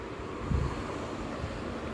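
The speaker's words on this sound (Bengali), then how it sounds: "ঝড় মতন উঠে গেছে, হাওয়া দিচ্ছে" Strong wind of an approaching storm gusts across the microphone as a steady broadband roar, with a brief louder buffet near the start and no voices.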